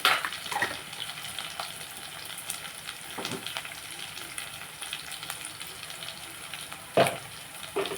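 Brinjal pieces with turmeric fry in a pan, giving a low continuous sizzle broken by occasional louder clatters of a spatula stirring. Nearby and moderate in level, with no talking.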